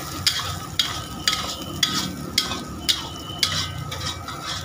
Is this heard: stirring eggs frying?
yes